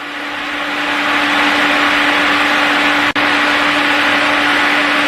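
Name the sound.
electric stove cooling fan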